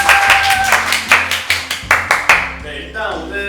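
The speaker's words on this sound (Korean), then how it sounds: "다시 한번 박수!" People clap in a studio after a cooking contest, landing about a dozen loud, close, rhythmic claps over background music before the clapping stops and talk begins.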